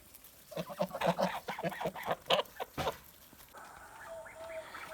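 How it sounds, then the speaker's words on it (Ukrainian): Geese and young goslings on a Kholmogory farm honk and cackle in a rapid, uneven chorus nearby, then fade to softer calls. "Ось така наша гусяча малеча."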